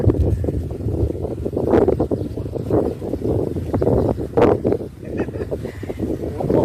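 Strong wind at a natural fishing spot buffets the microphone in heavy, uneven gusts, with rumbling blasts and brief lulls throughout.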